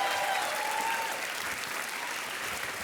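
A studio audience on a TV quiz show applauds its guests with dense, steady clapping that holds at an even level from start to finish.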